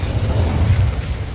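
Incendio fire spell cast in Hogwarts Legacy, a brief deep whooshing burst with a low rumbling roar that swells and fades over about a second, loud and alone.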